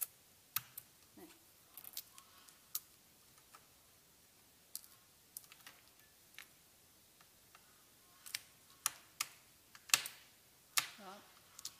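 3M VHB double-sided tape being peeled off a lighter, a series of sharp little clicks and crackles, sparse at first and then denser, close and quiet in a still room.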